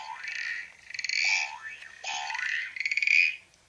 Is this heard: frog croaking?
yes